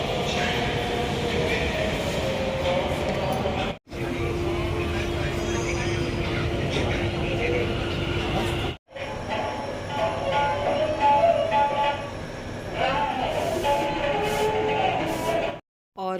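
A metro train runs with a continuous rumbling roar, rail clatter and faint wheel squeals, loud and close, broken by brief cuts in the sound, with some talking in the background.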